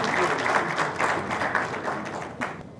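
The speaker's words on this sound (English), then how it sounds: "a good applause, a loud applause for the participants" Seminar attendees at a Rotary Foundation event in Islamabad applaud the participants, a short, fairly close round of clapping from a modest crowd that quickly thins out.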